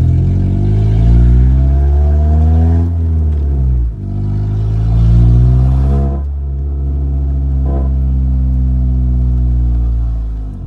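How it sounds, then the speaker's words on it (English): A car engine hums and revs during a drive around the block, loud and close, with rising and falling engine tones and shifts as the car accelerates and slows, no talking. "go a little drive around the block, see if it sounds different"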